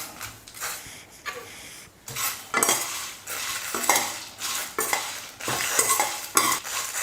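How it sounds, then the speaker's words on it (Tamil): Curry leaves and masala frying in a pan, stirred with a utensil that scrapes the metal in repeated close, loud strokes over a light sizzle, with no talking. "கருவேப்பிலையோட ஈரப்பதெல்லாம் போகிற அளவுக்கு வறுத்துக்கலாம்"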